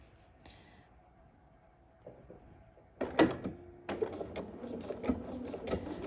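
A sewing machine basting fabric with a 3.5 stitch length starts after a quiet stretch, a few soft knocks and handling noises leading into a close, rapid mechanical stitching rattle that runs in short bursts.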